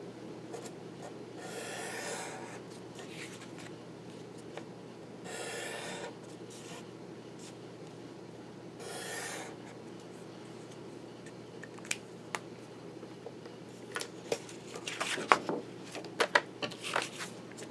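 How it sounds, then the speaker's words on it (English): A black marker is rubbed along the edges of a paper card, giving soft, close scratchy bursts at intervals, with a few faint clicks near the end. "I bring my black marker and I just go on the edges"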